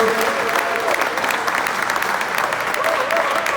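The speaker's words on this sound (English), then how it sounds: "can we keep on clapping? Our book is going to appear, so let's keep on clapping." Audience at the launch of the diabetes guide Let's Talk Diabetes keeps up continuous, dense applause with a faint voice carrying over it.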